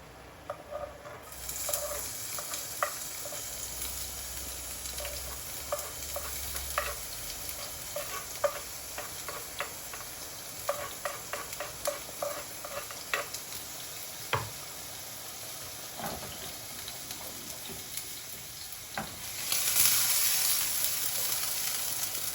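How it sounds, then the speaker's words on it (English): Chili and garlic lightly sautéing in oil and sesame oil in a pan, a steady soft sizzle with scattered pops and stirring clicks, close and moderate, swelling louder near the end with no one talking. "So just lightly sauteing that in the oil and sesame oil."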